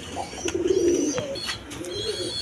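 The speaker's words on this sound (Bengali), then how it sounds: "বন্ধুগণ এখানে এক পেয়ার কবুতর আছে। দেখেন হাই ফ্লাইং কবুতর" A pair of high-flying pigeons coo in soft, repeated low calls, fairly close, with a few sharper bird chirps and light rustling around them.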